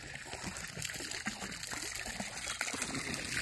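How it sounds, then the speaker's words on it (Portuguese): Water gushing strongly out of a pipe or outlet in a backyard vegetable garden: a steady, dense splashing rush that stays even throughout, close by, with no voices. "Saindo bastante água, né?"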